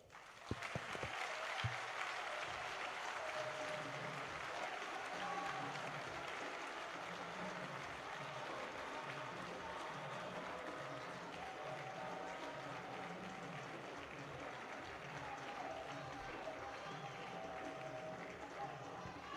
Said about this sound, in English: Please can we applaud Chief Bisi Akande once again.